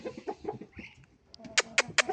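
A young blue rooster among hens and chicks in a farmyard makes a few short, sharp calls close by, ending in three loud bursts after some softer clucking.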